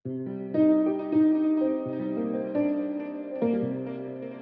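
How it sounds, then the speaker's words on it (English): A soft, airy ghost piano preset in Logic Pro X plays a slow sequence of chords and notes, each sustained and ringing with a mellow, slightly vintage old-school piano tone. "I'm going to come down to this little ghost piano part, which is a preset available through the library"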